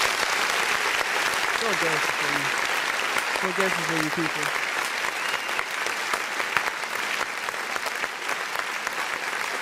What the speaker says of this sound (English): give the people a round of applause